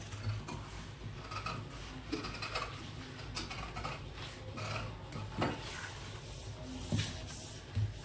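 Scissors cut through blouse fabric during tailoring, giving soft repeated snipping and rubbing sounds with a faint low hum behind, close and quiet with no talk.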